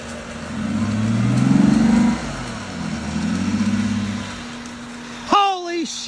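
A Jeep JK Rubicon engine revs hard as its wheels spin without traction, two long surging bursts of engine noise, followed by a sharp shout over the fading motor.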